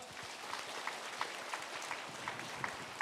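A church congregation at a large Shincheonji gathering in Gwangju applauds, producing a faint, distant, steady wash of clapping with a few sharper claps, heard alone without speech.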